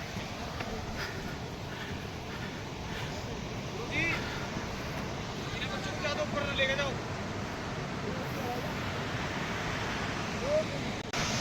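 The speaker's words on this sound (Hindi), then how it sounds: "जोगिनी वाटरफॉल तक पहुंच ही गए हैं" Jogini waterfall near Manali sends up a steady, broad rushing roar that fills the whole stretch without a break, with faint voices drifting in and out underneath.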